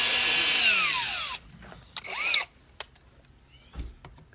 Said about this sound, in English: quarter inch nut driver here